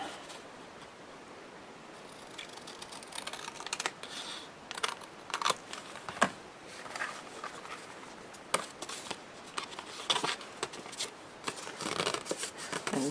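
Scissors snip through paper while making a double-envelope mini album, a series of small, crisp, close cuts at an irregular pace, fairly quiet and with nobody talking.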